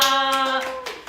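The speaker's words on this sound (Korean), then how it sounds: "박수로 한번 치고 갈까요?" At a Korean youth union tenth-anniversary photo exhibition talk concert, a small audience gives a short burst of clapping, mixed with a ringing tonal sound that fades out within about a second.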